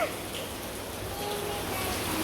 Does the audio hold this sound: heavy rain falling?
yes